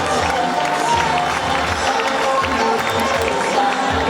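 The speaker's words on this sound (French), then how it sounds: "Sous vos applaudissements, s'il vous plaît" Sustained applause from a school audience at a student committee investiture ceremony, a dense, steady wash of clapping and crowd noise that carries evenly through the whole stretch without a break.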